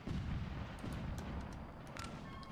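Cannon fire in the video game Rise of Liberty during the Battle of Bunker Hill, heavy booming blasts rolling together into a dense, continuous low rumble, with sharper cracks layered on top and no talk.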